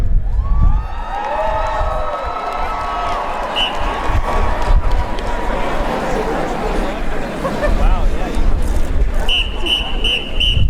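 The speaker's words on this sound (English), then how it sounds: "please join me in a huge round of applause" A large crowd at the 2015 Alabama football national championship celebration cheers and claps, with shouting voices, whoops and a few shrill whistles rising and falling through a loud, continuous roar.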